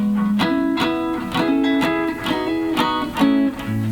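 Electric guitar played on the neck pickup, a run of clearly picked single notes in a steady rhythm, each ringing with a warm, rounded tone, close and alone.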